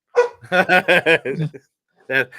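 A dog barks loudly and close, a quick run of five or six sharp barks followed by a pause and one more bark, with no other sound around it.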